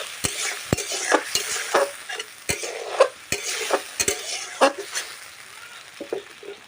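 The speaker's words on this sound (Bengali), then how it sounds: "মশলাটাকে আমি কষিয়ে নেব।" A masala for soybean curry is stir-fried in a pan, with a soft sizzle under repeated sharp scrapes and taps of a spatula against the metal in an irregular rhythm, close by.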